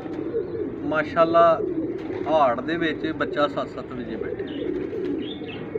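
Pigeons coo softly in short rolling bursts close by, underneath someone talking over them.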